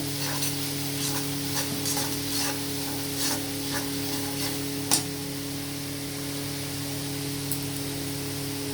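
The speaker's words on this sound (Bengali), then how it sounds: "এটা ভালো করে ভেজে নেব হলুদ গুঁড়ো দিয়ে জিরে গুঁড়ো দিয়ে দিলাম ভালো করে নাড়াতে হবে এগুলো" Ginger paste with turmeric and cumin powder fries in a pan with a constant close hiss and sizzle, light scraping of stirring, and an occasional sharper clink.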